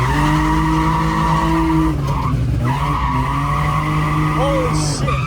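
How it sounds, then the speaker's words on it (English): A BMW M5 drifts with loud, sustained tire squeal over engine roar, the screech dipping and swelling as the car slides, and a brief sharper squeal near the end. "Now he's back into drifting"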